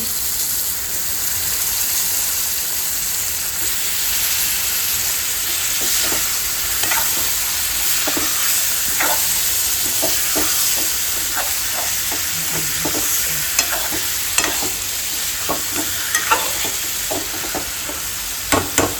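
Fish fries in a pan with garlic in hot oil, giving a continuous hiss and crackle with scattered sharper pops and occasional stirring clicks, heard close and steady throughout with no voices.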